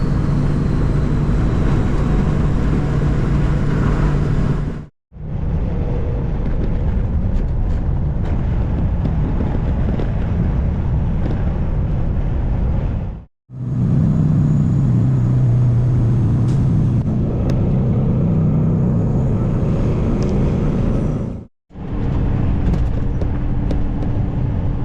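Oversize load truck rolling down the road, a loud continuous engine and road roar with heavy wind buffeting, broken by two brief dropouts.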